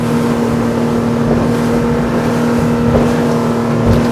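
A 2024 Sea Ray SPX motorboat's engine drones loudly and steadily at about 35 knots, a constant tonal whine over rushing water and wind.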